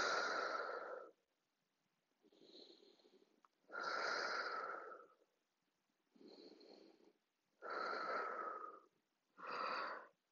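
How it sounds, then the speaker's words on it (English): Long breathy yawns during a kids' yoga session themed on the Trolls World Tour movie, several drawn-out exhalations in a row with pauses between, fairly close, no talk over them. "there's our second yawn"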